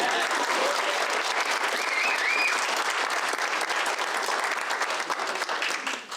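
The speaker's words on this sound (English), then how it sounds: "I think another round of applause" Sustained, dense applause fills a city council meeting chamber, steady and loud across the whole stretch before tapering slightly at the end.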